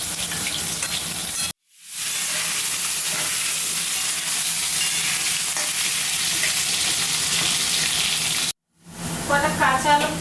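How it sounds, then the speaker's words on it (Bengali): Potatoes stir-fried in a pan with Malabar spinach stems, a steady, loud sizzle of hot oil broken by two brief cuts, with louder spattering and bubbling near the end. "আলুটা একটু ভালো করে নেড়ে চেড়ে ভেজে নেব"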